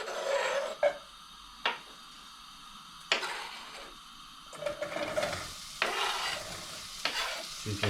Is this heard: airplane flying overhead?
no